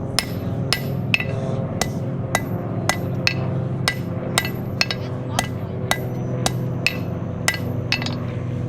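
Regular 3-pound hammer strikes clang against metal while forging a knife tip, at a brisk, even pace, each blow crisp and near, with a steady droning rumble underneath.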